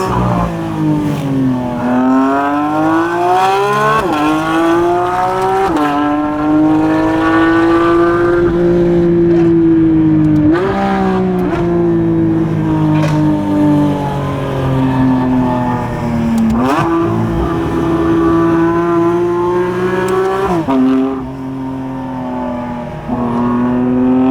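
Porsche 992 GT3 RS driven hard on a mountain road, its engine rising and falling through repeated high revs with sharp shifts and brief lifts, loud and close throughout.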